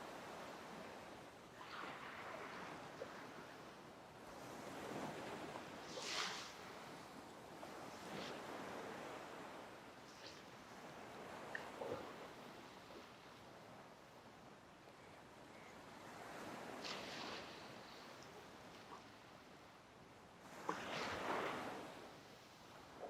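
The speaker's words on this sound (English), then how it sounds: "Just listening to the sounds of the waves." Ocean surf rolls in a steady, soft wash of waves breaking at a distance, with occasional louder swells rising and fading over a constant hiss.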